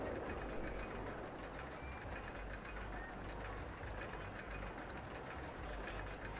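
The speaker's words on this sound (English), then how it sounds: "Very long trains." A very long freight train rolls past at an African diamond mine, a dense, steady rumble with rattling wagons that holds at an even loudness throughout, with faint high metallic squeals now and then.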